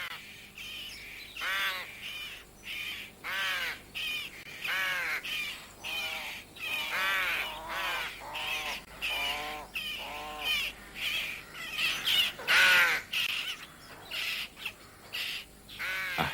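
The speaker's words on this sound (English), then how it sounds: "up in the rookery, an early brood already clamour for food" Young rook chicks clamour for food up in a treetop rookery before the branches bud, a dense run of harsh repeated caws in bursts, close and loud, with no talk.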